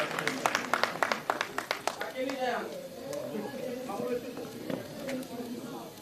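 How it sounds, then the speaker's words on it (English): An audience at a journalists' awards ceremony bursts into a short round of clapping, individual claps loud and distinct at first, then thinning into a scattered patter while people murmur and talk nearby. "Una clap for him back now, correct."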